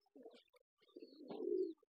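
Pigeons cooing softly inside their coop, where they shelter to lay eggs; faint low coos come as a short burst, then a longer, steadier coo, with quiet between.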